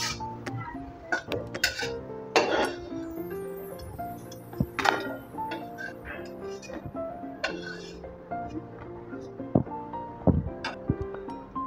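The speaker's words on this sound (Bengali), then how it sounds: "এবার কাজুটা আমি তুলে নেব।" A spoon scrapes and clinks against a pan as fried cashews are lifted out of ghee, with intermittent metallic taps, soft background sizzling, and a voice speaking over it.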